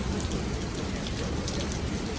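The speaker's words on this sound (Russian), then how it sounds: "Причем дождь льет как из ведра." Heavy rain pours down during a thunderstorm in Samara, heard outside a shopping centre as a steady, dense hiss of downpour drumming on surfaces, with no talk over it.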